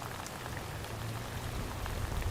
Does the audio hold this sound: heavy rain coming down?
yes